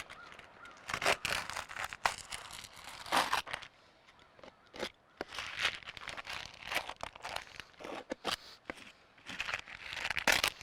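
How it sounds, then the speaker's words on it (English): Hook blade slicing through roofing material to cut a hole, giving scratchy crinkling tears in uneven bursts with brief pauses, close up and with no talking. "you'll take a hook blade and cut your hole out"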